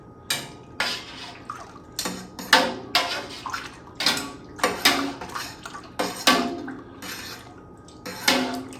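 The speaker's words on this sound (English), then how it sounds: "we're gonna bring this up to a boil now, and we're gonna stir all this in really good" Home-brew wheat beer wort is stirred in a large pot, a spoon scraping and sloshing in quick repeated strokes, loud and close, with wet clanks roughly every half second and brief pauses between bursts.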